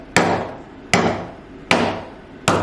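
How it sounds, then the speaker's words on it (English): A hammer strikes homemade peanut brittle four times at an even, unhurried pace, each blow a sharp close crack that rings briefly before fading, with no voices. "I think I'm gonna try using the hammer"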